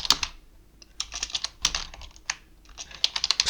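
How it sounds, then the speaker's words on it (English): Rapid, uneven clatter of keys on a computer keyboard typed with one hand, close and clear, in irregular bursts with short pauses and no talking. "Excuse the typos. I'm typing with one hand."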